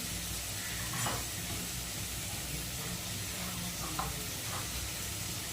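Turmeric and other spices dropped into a hot pan of oil, giving a steady, moderately loud sizzle and hiss with faint stirring scrapes and no voices.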